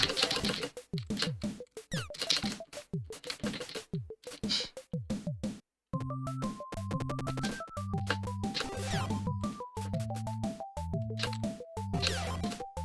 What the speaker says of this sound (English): I also switch my hands around on the keyboard so that I can mash space with my right hand